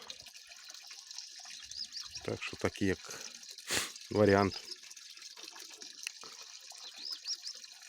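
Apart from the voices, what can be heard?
water from a tap filling a plastic-lined container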